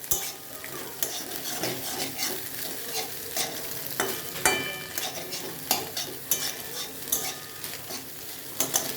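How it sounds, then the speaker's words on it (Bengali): Egg fries in a pan with potato and onion, a steady crackling sizzle broken by repeated sharp scrapes and clinks of a utensil against the pan. The sounds are close and continuous, with no talking. "ডিমটা ভালো করে ভেজে নেবেন।"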